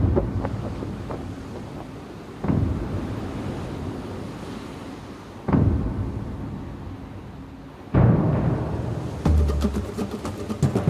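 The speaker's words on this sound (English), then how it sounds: "Finally, wind speed increases." Wind rushing over a land yacht, a continuous loud roar buffeting the microphone with periodic surging gusts.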